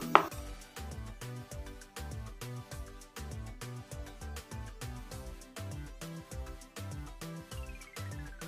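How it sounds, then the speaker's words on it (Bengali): Semolina appam batter with Eno fruit salt being stirred briskly in a bowl, a steady run of close, regular scraping taps with no talking. "এবার ভালো করে নাড়িয়ে নিচ্ছি।"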